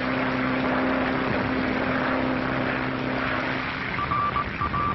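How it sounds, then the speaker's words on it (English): A propeller plane flies through heavy storms over the Atlantic Ocean in a radio drama, its engine a steady, continuous drone heard alone, with a faint whine rising near the end. "Dick Bennett, who is piloting his plane through terrific storms across the Atlantic Ocean."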